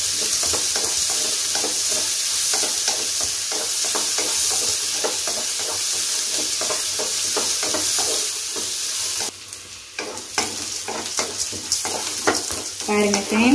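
Onions and curry leaves fry in oil for a leftover idli dish, making a continuous loud sizzle punctuated by regular stirring scrapes that grow sharper and more irregular toward the end.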